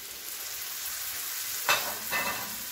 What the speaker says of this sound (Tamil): அந்த கிழங்கை போட்டு நம்ம வந்து கொஞ்சம் ஃப்ரை பண்ணி எடுத்துக்கலாம்